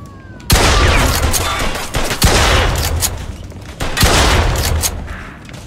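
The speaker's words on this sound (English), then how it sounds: "They're fucking shooting." Gunfire in the Mafia II game, loud bursts of repeated shots in several volleys with short pauses between them, close and sharp, echoing boom-like over a noisy background.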